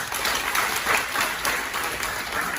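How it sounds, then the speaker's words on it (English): An audience gives a steady round of applause after a children's English drama performance, even and moderately loud for the whole stretch. "So there is a big round of applause."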